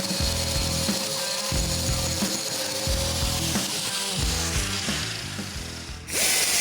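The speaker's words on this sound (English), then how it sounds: "take my grinder, touch the end of it" A grinder touches the end of a rotating steering shaft, truing it up while the steering wheel is spun; loud, steady grinding with a rhythmic pulsing chatter runs throughout, ending with a brief burst of hiss near the end.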